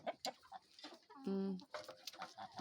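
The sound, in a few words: large grey domestic geese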